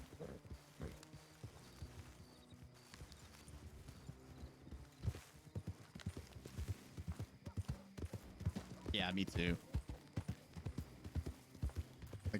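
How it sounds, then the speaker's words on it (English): Several horses run together, their hooves pounding in a dense, irregular clip-clop that rises and falls through the passage, and a voice speaks briefly near the start. "Like when you get 6 horses like running together, it just sounds like a fucking stampede."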